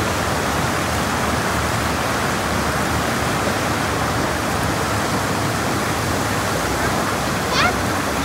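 Fast river water rushes past a riverside fishing spot, a loud, unbroken wash of noise held evenly from start to finish, with a faint high chirp near the end.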